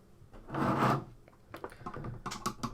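A screwdriver prying a chip out of a ZX Spectrum circuit board, heard as a short close scraping rasp followed by several small clicks and scratchy taps as the chip starts to loosen.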